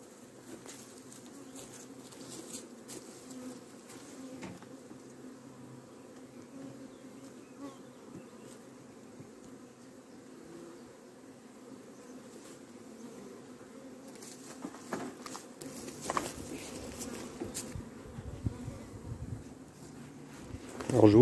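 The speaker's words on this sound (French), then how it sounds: "C'est un essaim qui est très facile à ramasser" A large honeybee swarm buzzes in a steady, dense drone at an outdoor apiary while being housed in a hive, with handling noises and rustling growing louder near the end.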